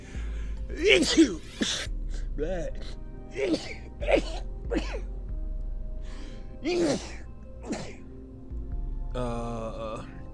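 A person sneezes several times in quick bursts, with gasping intakes between them, loud and close over a low steady background hum.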